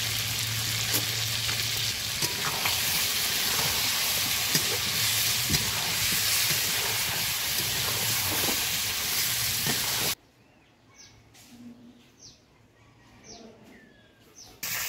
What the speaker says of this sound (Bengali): মাংসগুলা লাল লাল করে ভেজে নিয়েছি